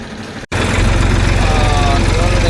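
An Eicher tractor engine runs on a farm, a close, steady low throbbing rumble that starts abruptly after a brief gap and holds evenly to the end.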